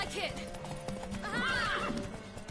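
Horse in The Witcher video game whinnying twice, a rising, wavering neigh near the start and a longer one mid-clip, over a dense bed of clip-clopping hooves and ambient game sound, with a voice speaking at times.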